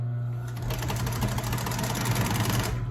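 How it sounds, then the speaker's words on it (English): An upholstery sewing machine runs steadily, stitching a top seam through fabric, a close, loud rapid mechanical whir with a rhythmic needle clatter throughout. "that's why it's called a top seam, because you're sewing on the top"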